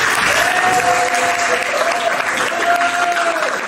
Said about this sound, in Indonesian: Tepuk tangan untuk Deka